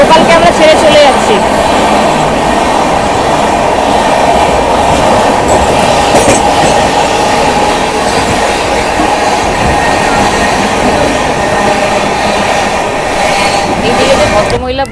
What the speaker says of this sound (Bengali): লোকালকে আমরা ছেড়ে চলে যাচ্ছি